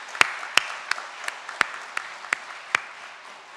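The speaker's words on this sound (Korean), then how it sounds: "우리 고마운 마음을 담아서 다시 한번 박수 한번 보내겠습니다." A church congregation applauds the Hosanna choir with sparse, scattered claps, a handful of sharp individual hand claps spread irregularly over a few seconds, fairly quiet and without talk.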